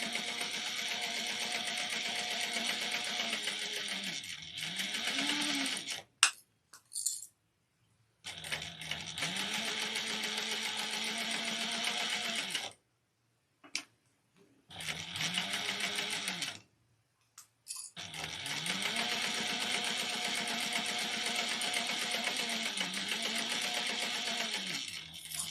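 A sewing machine stitches a vintage-style handbag in long, steady runs of close, loud whirring, broken by short pauses and clicks between passes.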